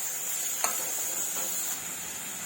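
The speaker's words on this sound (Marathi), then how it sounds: "गुलाबी कलरवर होईपर्यंत परतून घ्यायचा आपण कांदा" Onion sautéing in a pan on low heat for a raw jackfruit bhaji, a steady faint sizzle with a single soft scrape of stirring near the start, no talk.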